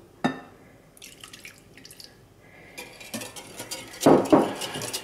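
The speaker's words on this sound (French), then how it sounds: "vous allez verser peu à peu le lait tiédi sur les œufs, en remuant toujours bien sûr" Warm milk is poured little by little onto beaten eggs while they are stirred, producing scattered close drips and splashes, light clinks against the bowl, and a louder burst of pouring near the end.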